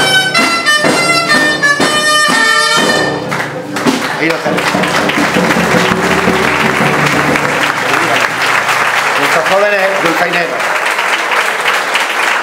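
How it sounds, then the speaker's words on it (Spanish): Audience applause at the presentation of the poster for a national gathering of giants and big-heads, following young dulzaina players' debut; loud, sustained clapping from a crowd fills the whole stretch, with musical tones fading at the start. "les animamos con un fuerte aplauso"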